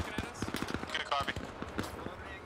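BTR armored vehicles firing guns in Arma Reforger, irregular sharp bursts of shots popping near and far, with a voice talking over the gunfire.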